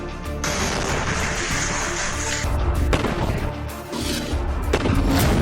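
An explosion blows up an Israeli tank in wartime, a loud, dense roar of blast noise with a sharp crash midway and further thuds and rumbling debris after it.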